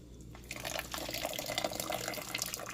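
Yarn is dipped repeatedly into a container of Kool-Aid dye water, making soft, continuous splashing and trickling with small drips, close and moderately quiet, with no voices.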